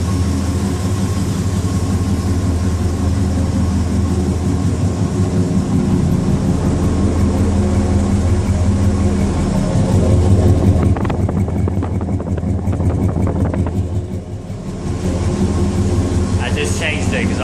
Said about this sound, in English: Hear that puppy fire up